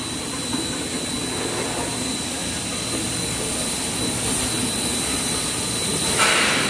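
An extruder on a face mask production machine runs steadily, heating material and pushing it out through the machine head, giving a constant broadband industrial hiss and hum with a faint high whine throughout.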